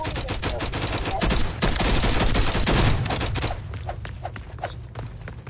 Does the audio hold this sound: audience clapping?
no